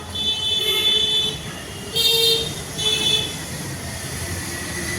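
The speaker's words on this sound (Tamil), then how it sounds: "இங்கே ஒரு நாள் கூட ஹார்ன் அடிக்கிறது கேட்காம இருக்க முடியாதுல்ல" Short car horn toots, two or three brief honks spaced a second apart over steady street traffic noise in Kolkata.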